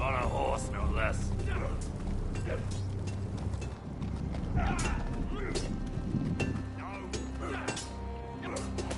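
Steady hoof clip-clops from a horse in the Game of Thrones video game, mixed with ambient noise and voices talking throughout.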